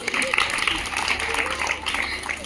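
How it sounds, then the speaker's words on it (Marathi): An audience at a Women's Day gathering claps together in a dense, steady patter of applause that lasts the whole moment, with voices mixed in. "जोरात टाळ्या."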